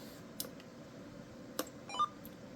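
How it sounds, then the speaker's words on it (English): A CB radio gives one short electronic beep as it powers on, sounding close and faint, with a few light clicks around it. "this thing beeps when you turn it on"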